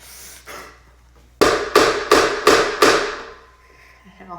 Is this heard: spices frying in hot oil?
no